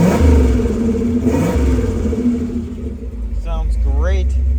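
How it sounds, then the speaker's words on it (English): A 1977 Pontiac Trans Am engine idles with a rumbling dual exhaust, then revs sharply twice near the end, rising and falling in pitch, close and loud. "Turn the lights off, and let me give you this rev"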